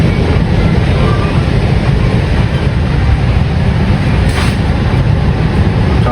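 A double-decker bus moves through heavy city traffic, a loud, continuous, close rumbling engine and road roar with rattling, steady throughout and without clear pauses.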